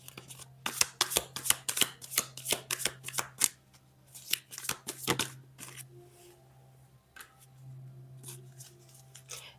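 A deck of tarot cards is shuffled and laid out, giving a dense run of crisp, close riffling snaps over the first five seconds, then quieter slides and soft placements. A low steady hum runs underneath.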